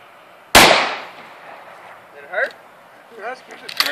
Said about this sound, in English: Yeah, I shot it and bang.